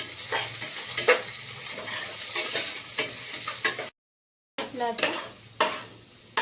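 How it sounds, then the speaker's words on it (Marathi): Garlic and ginger frying in hot oil with onion pushed aside in a pan for khichdi, a loud steady sizzle with repeated scraping stirs, dropping briefly to silence before resuming. "आता आपण लसूण आणि अद्रक एकदाच टाकू"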